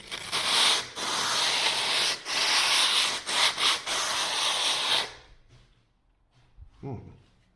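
Sanding of cornices and a ceiling with Mirka Mirox P80 sandpaper: steady, close abrasive rasping for about five seconds with a few brief pauses, then near quiet with a short murmur of voice at the end.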